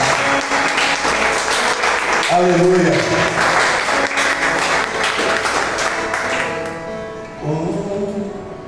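A church congregation claps loudly and continuously, with a preacher speaking and calling out in Portuguese over the applause before it fades toward the end.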